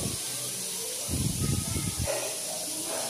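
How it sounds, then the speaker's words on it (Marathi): Malvani-style chicken vade (fritters) drop into hot oil in a kadhai, and a loud bubbling hiss surges for about a second over a steady low frying background before settling back down. "तेल चांगला मस्त कडकडीत टाकून घ्यायचा. त्यात मग वडे सोडायचे."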